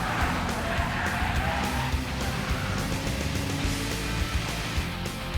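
Race car tires skid and squeal on a track as the car spins out, a loud continuous rough screech blended with engine noise throughout.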